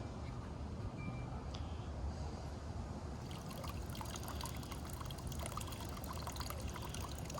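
Small solar-powered patio water feature trickling steadily, a soft continuous splash and dribble heard up close and quietly, outdoors.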